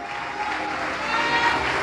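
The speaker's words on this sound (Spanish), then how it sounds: "¿Cuántos le aplauden fuerte al Eterno?" A church congregation applauding loudly during a sermon, a dense sustained roar of many hands clapping together with a few voices rising in the mix.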